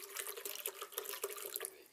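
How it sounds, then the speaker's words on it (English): Tap water runs and splashes steadily into a blender jug, about half a litre for a green smoothie, with a bright, continuous gurgling pour and small irregular drips throughout. "So let's start off by adding around half a litre of water,"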